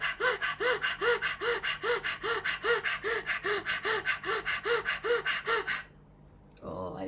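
Rapid, forceful breaths, about a dozen sharp inhale-exhale pairs in steady rhythm, close and loud, then a short pause and a brief voice.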